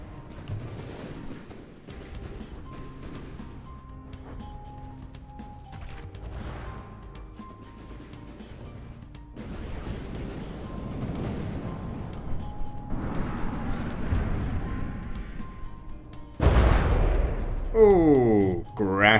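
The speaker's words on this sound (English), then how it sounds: "Oh, a big punishing cannon shell there." Booming cannon shots and explosions crash out in bursts amid mechanical noise in the video game From the Depths, growing louder and harsher toward the end.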